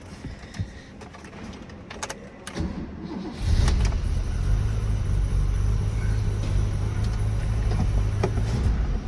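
A classic BMW 635 CSi, left abandoned and under restoration, cranks briefly and then fires up into a loud, steady low rumbling idle, with a few clicks and rattles before the engine catches.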